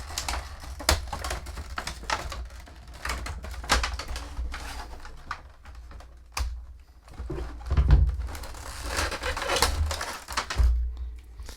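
Crinkly, crackling cuts and snips at action figure packaging for a Bronx figure from Disney's Gargoyles, arriving as irregular close bursts with sharp plastic clicks and a few heavier thunks, with no talking.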